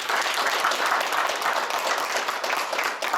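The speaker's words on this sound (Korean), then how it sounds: "조항권 프란치스코 신부님을 큰 박수로 모시겠습니다." An audience at a church lecture claps to welcome a Catholic priest speaker, dense continuous applause filling the room without pause.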